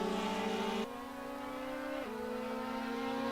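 Ferrari 458 race car engine in a racing video game at the Lausitzring, a loud steady high-pitched engine note that drops sharply as it shifts up, then holds and shifts again, continuous with no talking.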